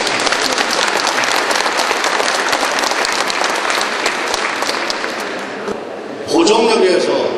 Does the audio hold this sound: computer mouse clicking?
no